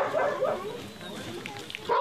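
A dog barks a few times at a training ground for earthquake rescue dogs, the short barks mixed with people talking nearby.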